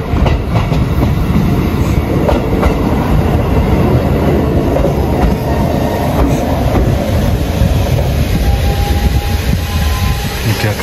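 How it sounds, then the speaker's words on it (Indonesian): A train pulls into a small rural station in the Japanese countryside, a steady loud roar of wheels clacking over rail joints with a faint squeal, up close and continuous throughout. "tak tunjukin kereta yang datang di stasiun"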